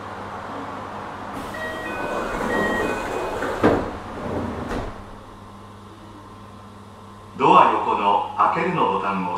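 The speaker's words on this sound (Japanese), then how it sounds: "一旦すべてのドアを閉めます。" Doors on a JR 733 series 3000 train close at a station, with a mechanical slide and thump, a quiet pause, then a louder clatter as doors move again over a steady electrical hum.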